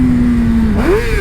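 Yamaha FZ-07 sport bike engine revving hard during a wheelie, a loud close engine tone holding steady then dipping and climbing sharply as the throttle is worked.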